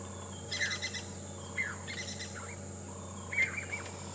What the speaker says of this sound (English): Those are Jacobin's cuckoos that flew past that you could hear calling.